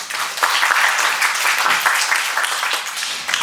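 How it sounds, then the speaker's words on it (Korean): Audience applause at a youth forum on sustainable development, a dense, steady wash of many hands clapping at close range, holding at an even level throughout with no talk over it. "다시 한번 큰 박수 부탁드립니다"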